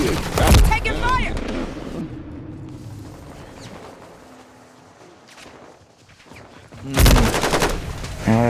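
Gunfire from a Call of Duty match bursts loudly at the start and again near the end, rapid automatic rounds with a quieter stretch of distant shots and shuffling between, while a player talks over it.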